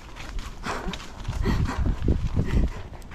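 A horse walks at a slow pace outdoors the day after a storm, its hooves giving an uneven series of dull clops over a few seconds, close and moderately loud, with no talk.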